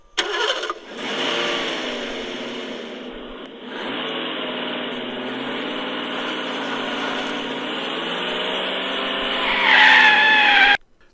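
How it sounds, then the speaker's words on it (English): An old, beat-up Ford Taurus speeds away, its engine roaring steadily and loudly with a squealing, skidding tone that rises near the end, no talk over it. "they get into an old beat-up Ford Taurus and speed off"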